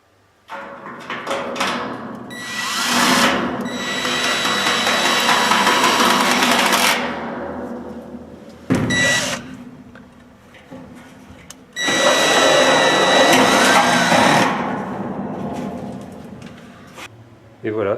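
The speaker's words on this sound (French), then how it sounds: "hop, visseuse." Electric screwdriver driving screws to fix garage shelves to a wall, two loud sustained whirring bursts of several seconds each, separated by a short pause with a thump and brief handling noise.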